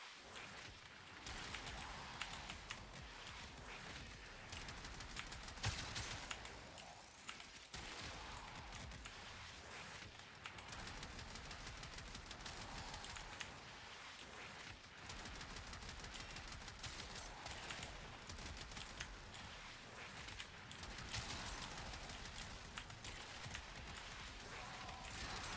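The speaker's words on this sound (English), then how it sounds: "So it's actually good to shoot at the tornadoes." Sustained rapid gunfire in the Warframe video game, shooting at tornadoes, forms a dense continuous wash of shots and effects that stays steady throughout at a low level.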